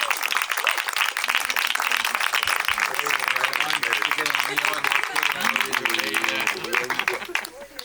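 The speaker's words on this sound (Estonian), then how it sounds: "ühe aplausi kõigile eilsetele kõnepidajatele" Wedding guests applauding yesterday's speakers, a sustained, dense round of clapping from a crowd indoors that holds steady for several seconds and then tapers off, with speech and voices mixed in underneath.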